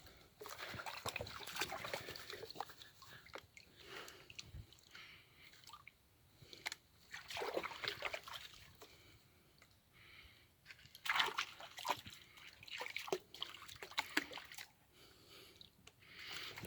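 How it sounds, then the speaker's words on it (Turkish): Water sloshing and swirling in a gold pan in a stream, rhythmic wet swishes and trickles repeating in quick bursts, close up and fairly quiet with no talking. "panlamayı hızlı yapıyorum"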